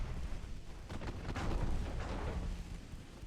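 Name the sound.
naval small guns firing in Ultimate Admiral Dreadnoughts video game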